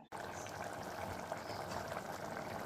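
Water bubbles and seethes at a steady rolling boil in a cooking pot, a dense continuous hiss close by.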